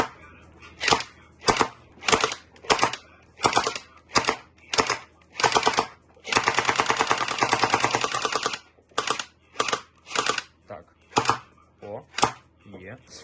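A toy gel blaster, an M249-style machine gun, fires a string of single snappy shots, then a sustained rapid burst of automatic fire, then more single shots, close and loud.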